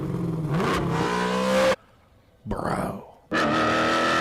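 Joe Rogan's custom vintage-styled car, Sick Fish 2.0, revving loudly in sharp bursts with rising engine pitch, broken by a brief near-silent pause and short rough blip before a final strong rev; someone speaks briefly.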